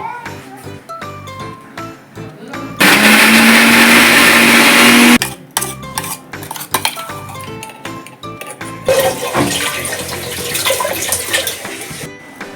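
A kitchen mixer grinder whirs loudly for about two seconds while blending ginger and garlic into paste, framed by clinking of utensils and steel dishes and a later stretch of sloshing, watery clatter.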